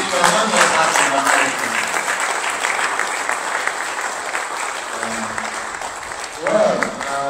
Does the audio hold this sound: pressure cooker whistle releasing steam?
no